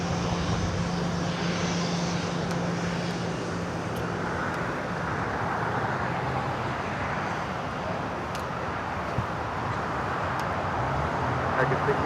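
A fixed-wing airliner at Los Angeles LAX airport gives a continuous broad engine roar, steady and moderately distant, blended with background road traffic throughout.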